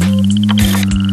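A frog croaking in muddy surroundings, a close, loud sustained low croak with a rapid pulsing trill above it and a couple of brief louder bursts.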